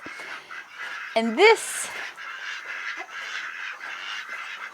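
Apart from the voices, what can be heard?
ducks quacking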